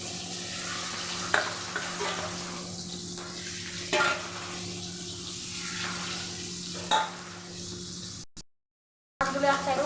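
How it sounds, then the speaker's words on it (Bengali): Rohu fish pieces coated in salt and turmeric fry in hot oil with a continuous loud sizzle. A few sharp stirring clatters come through, and the sound drops out briefly near the end. "আমি লবণ হলুদ মাখানো মাছগুলো একে একে দিয়ে দিলাম।"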